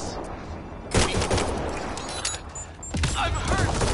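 Gunfire in Mass Effect Andromeda, sharp shots and bursts erupting near the one-second mark and again toward the end over a busy game soundscape, with voices speaking in the mix.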